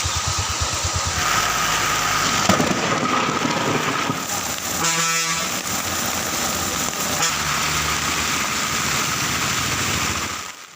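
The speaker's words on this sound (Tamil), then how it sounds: "தளி, கெலமங்கலம், ஜக்கேரி உள்ளிட்ட பகுதிகளில் சூறை காற்றுடன் கனமழை வெளுத்து வாங்கியது." Heavy rain with strong gusting wind around Hosur in Tamil Nadu, a loud, steady broadband roar of downpour lasting throughout, with no voices.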